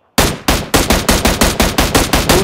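Automatic gunfire in a mobile battle royale shooter, a rapid burst of about ten loud, evenly spaced shots ringing out close and clean with no talk over it.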